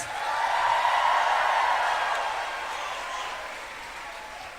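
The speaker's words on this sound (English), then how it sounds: "Can we all give them a very big round of applause?" An audience applauds the Don Bosco Choir Maram of Dimapur Province at a Taizé prayer youth expo. The clapping is a steady, broad wash that swells early, then slowly fades while still sustained, with no voices over it.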